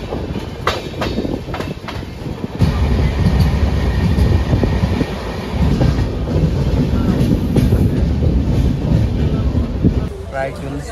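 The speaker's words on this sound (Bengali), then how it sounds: "নির্দিষ্ট সময় থেকে প্রায় 40 মিনিট লেটে ট্রেন এসে পৌঁছালো ডালখোলা জংশনে।" A passenger train pulls into Dalkhola Junction station, its steady rumble and rolling wheel noise loud and close throughout, with voices talking faintly beneath.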